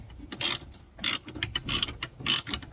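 A hand ratchet cranks down a bolt during front end work on a J-swapped Honda Civic, producing four or five short bursts of sharp metallic clicking, close and distinct, with brief pauses between strokes.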